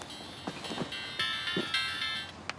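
A mobile phone ringtone plays faintly, a repeating electronic melody, with a few soft knocks and movements in the room.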